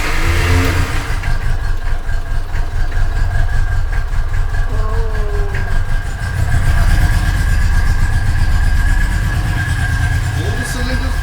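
An old car engine with the choke pulled runs at a rough, steady idle close by throughout, growing slightly fuller and louder about halfway through, with low voices in the background.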